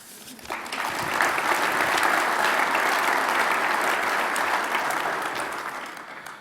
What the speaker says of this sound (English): And we can start right now with another round of applause.